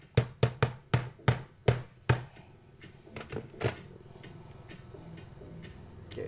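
Quick metallic tapping as a metal file knocks a pin out of an SSG 69 gel blaster rifle: seven sharp, evenly spaced strikes, then a few softer scattered clicks fading into quiet room noise, with no talking.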